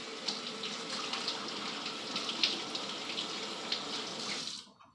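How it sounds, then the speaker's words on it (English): Running kitchen faucet as hands are rinsed under the stream, a steady splashing hiss with small spatters, cutting off abruptly near the end. "Let me rinse my hands real quick."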